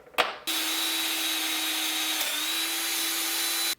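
A power drill bores out a hole in a metal engine mount for an E36 LS swap, running as one steady, loud, high whine for about three seconds after a short start-up burst.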